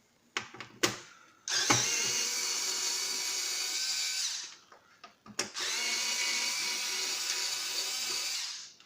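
Electric screwdriver backing screws out of a Samsung 223BW monitor, close and loud: a few short taps, then two sustained whirring runs of about three seconds each, separated by a brief pause.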